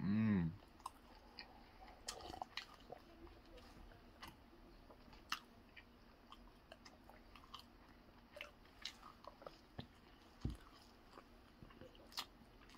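Someone chews a mouthful of garlic butter and cheese calzone close to the mic, with faint soft crunches and wet clicks, and a brief low voice at the start.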